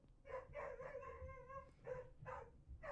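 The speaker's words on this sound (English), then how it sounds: "Dog." Dog barks and yips several times close by, short sharp bursts with a drawn-out whining note in the middle, over a quiet room background.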